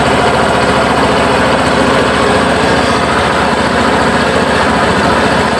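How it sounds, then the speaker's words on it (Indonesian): A Suzuki Burgman Street 125cc scooter engine idles steadily with a rough, throaty exhaust rumble, loud and close, holding a constant even putter throughout. "Nah, inilah suara knalpotnya."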